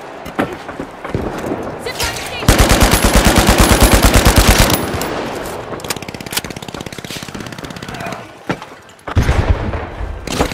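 Loud automatic gunfire in a team arena shooter video game comes as long, rapid sustained bursts and shorter volleys, with excited commentators talking over the shooting.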